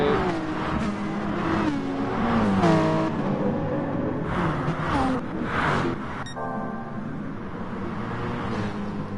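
GT1 race cars in a racing video game at Interlagos, engines revving and roaring with pitch swoops as they brake and accelerate, a dense continuous mix of several cars close by with no talk.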